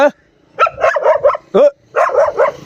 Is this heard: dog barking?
yes